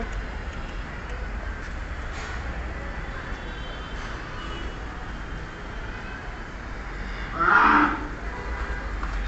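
A cow lows once, a brief moo rising over a steady outdoor hiss and rumble at a large cattle farm in Old Dhaka.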